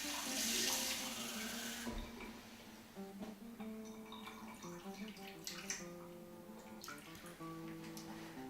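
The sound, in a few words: glass of water poured into a guinea fowl roasting dish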